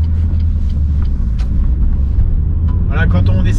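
Renault Clio 3 GT 1.6 16V pulling away at low revs, a loud steady low engine rumble heard from inside the car, with a voice speaking over it near the end.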